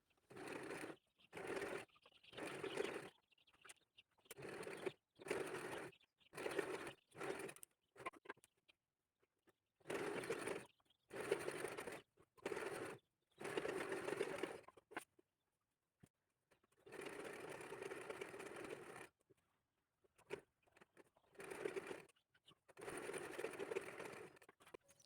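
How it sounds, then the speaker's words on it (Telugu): Domestic sewing machine stitching lining cloth onto a maggam work blouse, running in repeated short bursts of rapid whirring with brief pauses, then longer continuous runs near the end; no talking. "వర్క్ ఉన్న సైడ్ లైనింగ్ వేసుకొని ఇలా వీడియోలు చూపిస్తున్నట్టుగా స్టిచ్ చేసుకోవాలి"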